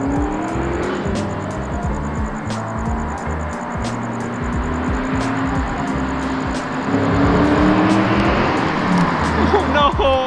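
A Ford Mustang, running again after a dead fuel pump was upgraded, revs and pulls away on a mechanic's test drive, with a loud, steady engine drone that swells near the end and people talking over it.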